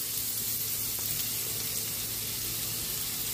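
Garlic sautéing in butter in a pan, a steady bright hiss of frying that runs evenly from start to finish, close and fairly loud, with no voices.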